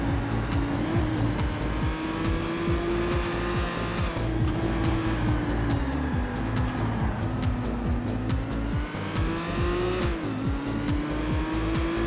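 Race cars in the PS2 racing game Total Immersion Racing, a continuous loud engine drone that rises and falls with gear changes, with intermittent tire squeal and ticking mechanical noise throughout.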